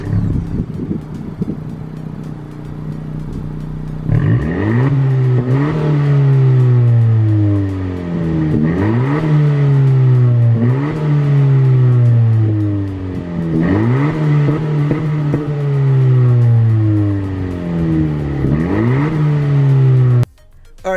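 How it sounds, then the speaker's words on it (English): A Honda Civic Si sedan accelerates hard through repeated gears, each loud, close engine pull rising in pitch then dropping at the shift, several cycles in a row with wind noise, ending abruptly. "now I finally get to drive the Honda Civic Si"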